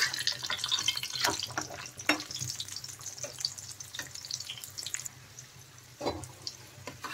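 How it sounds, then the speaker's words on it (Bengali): A potato Mughlai paratha fries in a little oil in a frying pan, giving a continuous close sizzle with crackles and occasional soft clanks as it is turned, fading slightly toward the end. "এই মোগলাই পরোটাকে কিন্তু এখন উল্টে পাল্টে ভালোভাবে ভেজে নিতে হবে।"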